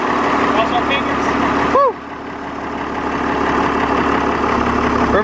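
A Case 1896 tractor engine idles and runs in first gear outdoors, a steady rumbling drone close by, with a brief rising squeal partway through.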